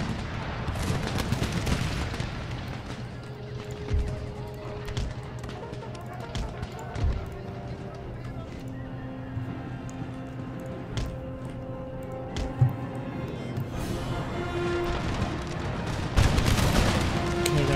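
Musket volleys crackle through a battle in the video game Empire Total War, with repeated sharp shots and rolling fusillades over cannon booms and the din of the field, while someone talks over it.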